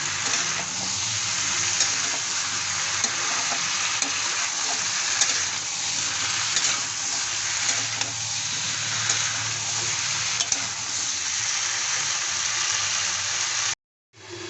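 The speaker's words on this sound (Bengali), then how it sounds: "এখন আমি দিয়ে দিচ্ছি কেটে রাখা লাউ। লাউও ভালোভাবে কষিয়ে নেব।" Chopped bottle gourd sautés with spiced potatoes in a pan for a vegetarian lau ghonto, making a loud, unbroken sizzle and hiss with stirring for about fourteen seconds before a sudden brief cut to silence.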